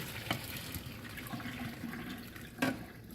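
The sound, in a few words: hot water poured out of pan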